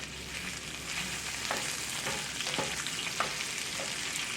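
Pulled pork and cabbage frying in a pan, a steady close sizzle with light scraping stir clicks running throughout, no talking.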